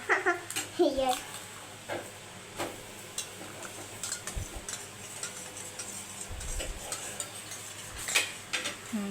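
A spoon taps and clinks against a bowl as egg mixture for an omelette is stirred, a quiet, irregular rhythm of light ticks under a child's and an adult's voices in a home kitchen.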